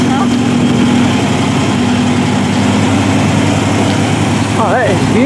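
Classic car with a 428 engine idling and pulling away, a steady low engine rumble filling the scene with a rising rev near the end, voices talking nearby.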